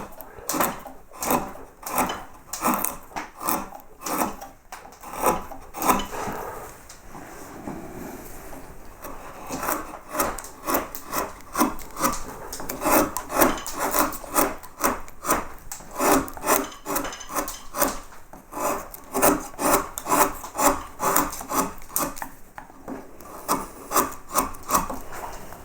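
A small carving tool picks and scrapes at a hand vase carving, producing close, quiet, rhythmic rasping strokes repeated steadily throughout with brief pauses.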